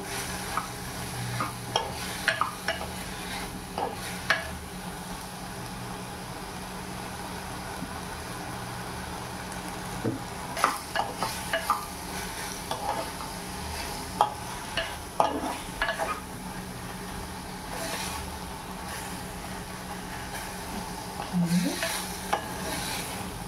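Mushroom and baby corn cook in oil in a pan under a continuous low sizzle, with scattered spatula scrapes and clinks at irregular intervals, close and steady, with no talking.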